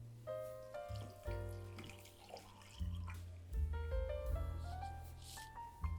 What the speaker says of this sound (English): And we'll add 4 cups of water.